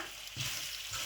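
Mutton pieces fry in a hot pan with a steady broadband sizzle, and a couple of short stirring scrapes break through near the start and end; no one speaks.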